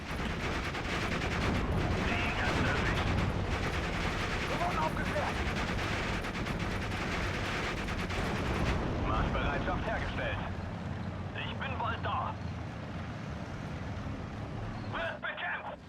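Steel Division: Normandy 44 battle: dense rattling gunfire and bursts from Panzerwerfer rocket fire roll continuously, loud and close, later thinning into scattered distant shots.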